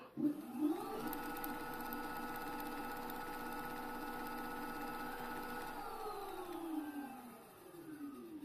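A Kukirin G3 Pro electric scooter accelerates in second gear, its motor whine rising steadily in pitch for several seconds, holding a steady high tone, then winding down near the end; loud and close with no talk.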